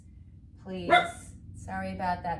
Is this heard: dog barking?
yes